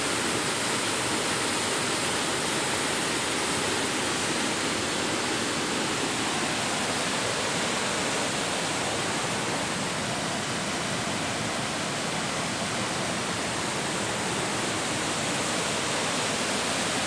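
A river runs between steep cliffs in a butterfly forest in Kebumen, a loud, steady broadband rush of flowing water that stays even throughout, with no voices.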